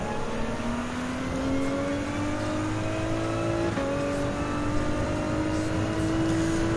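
A 2018 Ford GT race car in Gran Turismo 7 drives a GT Cup Gr.3 race, its engine droning loudly and steadily as the pitch climbs through the gears, with a brief dip at a shift midway.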